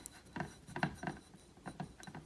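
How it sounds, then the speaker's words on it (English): A stencil rubbed firmly onto a glass bottle makes soft, scratchy rubbing strokes in an uneven rhythm, close and quiet with no talking. "we want to rub this really well, make sure it's really stuck on the glass"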